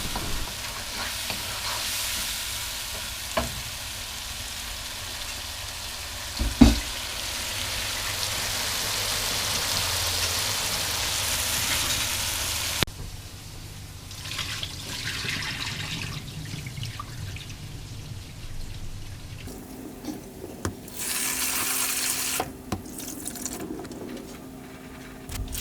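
Spices including chilli powder, paprika and salt sizzle in a frying pan for desi dhal while being stirred, a continuous crackling hiss with scraping bursts and occasional clinks, no talking.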